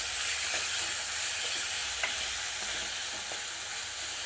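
Half a cup of ginger garlic paste sizzles steadily in hot oil, a constant broadband frying hiss with a few faint scrapes of stirring, close and without talk.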